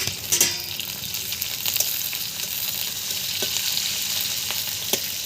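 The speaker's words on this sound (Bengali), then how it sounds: "গরম তেলে তেজপাতা, এলাচ, দারচিনি দিয়ে দিলাম।" Bay leaf, cardamom and cinnamon fry in hot oil with a dense, continuous sizzle and a few faint crackles and stirring taps close by.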